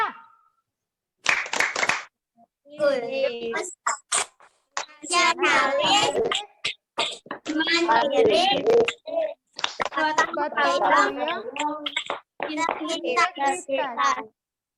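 Children in a classroom perform the PPK clapping routine, bursts of rhythmic hand claps mixed with chanting young voices and an adult speaking, fairly close and lively.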